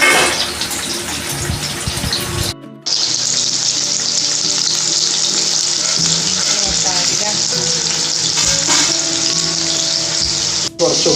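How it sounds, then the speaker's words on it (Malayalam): Onions sautéing in oil in a pan for a chicken curry, a loud, continuous close hiss of frying with occasional stirring, broken by a short pause early on. "ഉള്ളി മാത്രം ജസ്റ്റ് ഇതിലൊന്ന് ഇത് എണ്ണയിലൊന്ന് വാട്ടിയെടുക്കും"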